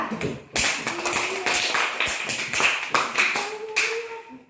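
A classroom applauds group 2 after its presentation, a crackling burst of many hands clapping close by, with some voices faintly mixed in.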